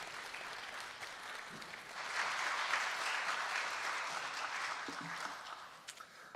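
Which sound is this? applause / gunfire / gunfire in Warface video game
applause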